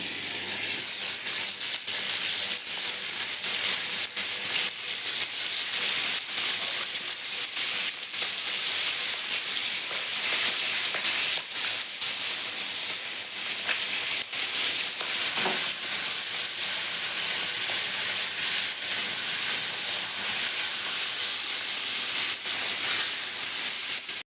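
Chicken sizzles steadily in white oil and butter in a kadai, a loud, continuous hiss and crackle running unbroken for the whole stretch with no talking.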